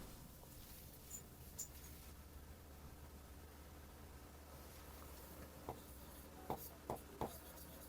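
Pen writing on paper during an English lesson, faint scratchy scribbling strokes under quiet room noise, with a few soft taps near the end.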